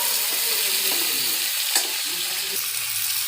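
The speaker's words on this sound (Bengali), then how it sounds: "এর মধ্যে দেবো আদা বাটা, জিরে গুঁড়ো, ধনে গুঁড়ো, লঙ্কা, হলুদ আর নুন দিয়ে ভালো করে কষিয়ে" Vegetables sautéing in a pan with ginger paste, cumin, coriander, chilli, turmeric and salt give a steady close sizzle, with faint stirring scrapes over it and no voices.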